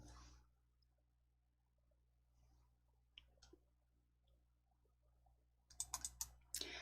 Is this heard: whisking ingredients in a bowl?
no